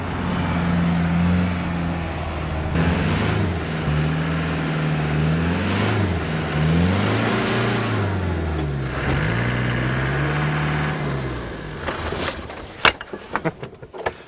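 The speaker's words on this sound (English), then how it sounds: "pull away in second and try to get into third quickly, but you have to build up momentum." An off-road vehicle driving across soft Sahara desert sand, its engine droning steadily and rising and falling as it revs through the gears, ending in a few sharp knocks and rattles.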